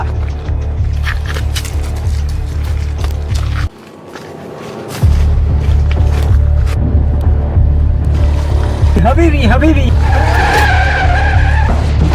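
A car skids under hard braking, a loud sustained rumble and tire noise that cuts out briefly, then resumes with squealing tones toward the end.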